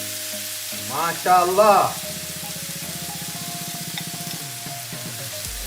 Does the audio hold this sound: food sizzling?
yes